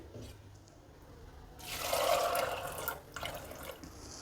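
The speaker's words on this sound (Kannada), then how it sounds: "ಒಂದು ಕುಕ್ಕರಲ್ಲಿ ಕಾಳನ್ನು ಹಾಕಿ ಮುಳುಗುವಷ್ಟು ನೀರು ಹಾಕಿ" Water pours steadily into a pressure cooker holding fresh pigeon peas for about a second, a rushing splash close by, followed by faint trickling.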